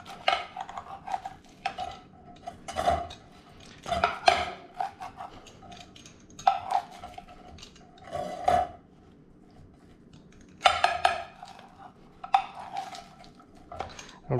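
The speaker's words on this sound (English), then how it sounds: "Let's get a cut into this pizza." Knife or pizza cutter working through a tuna and corn pizza with a well-cooked bottom, giving a series of close scraping and clattering strokes against the pan or board, with bursts of crunching spread across the clip.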